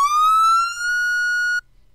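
A modded police car siren in GTA5 sounds its whale tone: a single loud electronic wail that sweeps up and holds a steady pitch before cutting off abruptly, heard alone with no talk.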